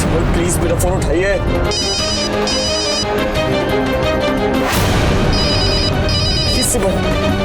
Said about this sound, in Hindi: प्लीज मेरा फोन उठाइए।